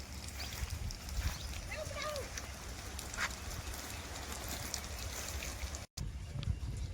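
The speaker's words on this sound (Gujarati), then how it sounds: "મોટર ચાલુ થઈ ગઈ." Farm water pump motor running in a field, giving a steady, even low hum throughout, with people talking over it.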